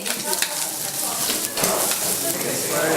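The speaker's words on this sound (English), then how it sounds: "This part we're going to fry our apples." Apple slices frying in a pan, a steady close sizzle running throughout with light stirring noises on top.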